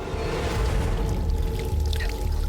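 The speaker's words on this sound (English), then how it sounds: "Gasoline was just pouring out." Gasoline gushes steadily from the ruptured fuel tanks of a crashed plane on a mountain, a loud, continuous pouring and splashing that fills the whole moment.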